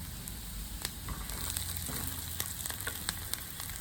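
Ginger dropped into hot oil while cooking banana cutlets, a quiet steady sizzle with crackling pops and small spits scattered throughout, close by with no talk.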